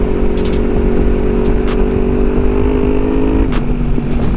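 A Kawasaki Versys 300X motorcycle rides along a road that was once dirt and is now tar, its engine holding a steady, loud, close drone with a constant rumble of wind and road noise.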